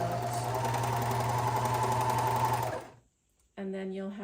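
A serger sewing machine runs steadily while stitching bra seams, a loud close whirring motor that stops briefly, then starts again.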